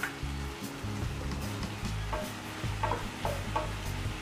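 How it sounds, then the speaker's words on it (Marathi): Tomatoes stirred into a spring onion bhaji frying in a pan: a continuous sizzle with repeated scraping and knocking of a spoon against the pan, close and fairly loud. "टमाटे टाकल्यावर पण आता मिक्स करून घ्यायचं।"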